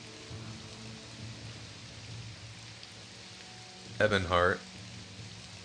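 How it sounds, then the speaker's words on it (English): Steady rain hisses softly in Morrowind, a continuous wash of falling drops under a quiet low hum, while someone speaks briefly near the end. "Gotta turn the rain down a little bit."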